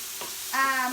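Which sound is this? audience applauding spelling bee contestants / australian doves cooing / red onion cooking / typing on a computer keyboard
red onion cooking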